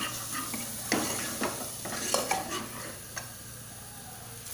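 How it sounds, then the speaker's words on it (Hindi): A spoonful of homemade butter meets a hot pan for butter matar mushroom masala, giving a soft steady sizzle broken by scattered clinks and scrapes of a spoon against the pan. "अभी मैं इसमें तकरीबन 1 टेबल स्पून अपना होममेड बटर का डालूंगी"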